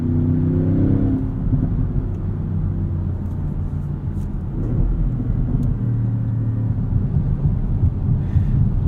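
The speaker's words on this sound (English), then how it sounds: "you can probably hear a little bit of wind noise from that" Steady low rumble of a moving 2016 Audi S7 on a windy day, with broad wind buffeting over it, loud and continuous, with no voices.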